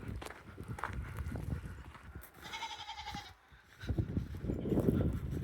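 Goats inside a barn during a freezing-rain winter storm give a few short bleats amid shuffling, rustling and footsteps, moderately close with a soft ambient background.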